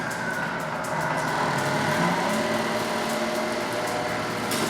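The electric motor of a Tamiya Knight Hauler RC truck runs steadily in first gear, a continuous close whine with a broad mechanical hum that holds level for several seconds.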